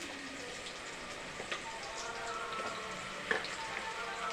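Ingredients for chicken kuska fry quietly in a pan, a steady soft sizzle with occasional small pops and crackles, close and low in level.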